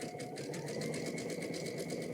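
A sewing machine stitches a ruffle strip over piping cording for a pillow, with a fast, even mechanical chatter that runs close and steady the whole time.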